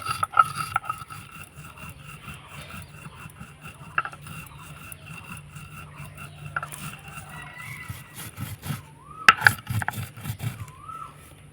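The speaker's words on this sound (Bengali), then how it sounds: "একটু আদা থেতো করে বেটে নিতে হবে" Ginger and spices are crushed into a coarse paste for a raw mango Burmese pickle, giving irregular rubbing and grinding scrapes with occasional knocks, moderately close, and a voice speaks intermittently throughout.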